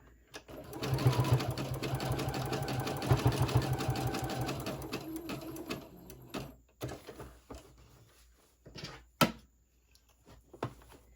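A sewing machine stitches a boxy fabric pouch in a steady, close, rapid run for several seconds, then stops, followed by a few clicks and handling knocks.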